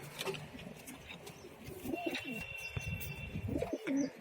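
Ten young pigeons in a loft, soft, low, rolling coos repeated by several birds close by, with scattered faint chirps and light rustling.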